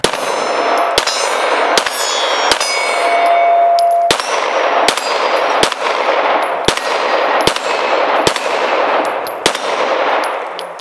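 Pistol shots fired at steel targets for competition shooting: about a dozen sharp, loud reports at a brisk, slightly uneven pace, each followed by a bright metallic ring that decays between shots, with no talking.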